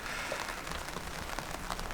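Rain falls on a car while someone sits inside, a dense and even patter of drops on the roof and glass, soft and steady throughout with no voices.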